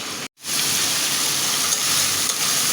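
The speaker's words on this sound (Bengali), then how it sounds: "এই জন্য আমি মশলাটা সুন্দর করে কষিয়ে নেব" Spice paste for prawns with water spinach fries in a pan as a loud, dense, even sizzle that cuts out for an instant near the start and then carries on without a break.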